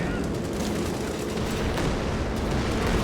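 Artillery strikes in a video game, a dense, continuous roar of booming explosions and gunfire rumble that stays loud and heavy throughout, with voices partly buried underneath.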